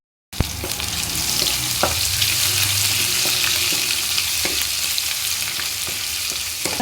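Masala fries in a pan for an aloo chicken curry, a loud, steady sizzle that starts abruptly, with periodic clicks and scrapes from stirring, heard close up and without speech.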